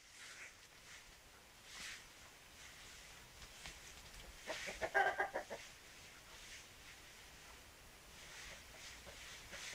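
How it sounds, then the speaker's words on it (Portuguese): Chickens and a rooster cluck faintly in a quiet yard, with scattered soft calls and one brief louder burst of clucking midway. "Olha a galinha, tio. Tem o galo, tio."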